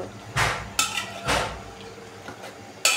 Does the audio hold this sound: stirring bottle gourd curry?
yes